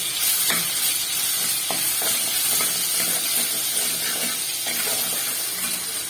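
Ginger-garlic paste, about a spoonful, fries in oil with cardamom and cloves for a Bengali cauliflower roast, making a continuous loud sizzle and hiss with scattered soft stirring scrapes.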